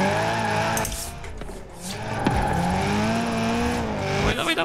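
In Forza Horizon 4, an older drift car screeches through slides, its tires squealing loudly over a revving engine, with brief gaps as the squeal cuts in and out.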